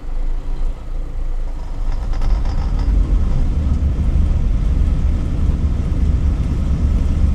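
Lada Niva 4x4 engine revving steadily while its rear wheels spin on rollers under the rear axle, the front wheels on asphalt; a loud, continuous low drone that swells slightly after the first seconds and holds at a sustained level.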